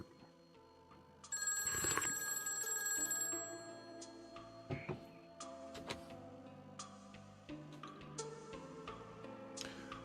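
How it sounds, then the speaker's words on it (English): A telephone rings in a visual novel game set in Hong Kong in 1986, a bright electronic ring loud at first, then several sharper tones and clicks continuing over a low musical backdrop. "I heard my phone ring."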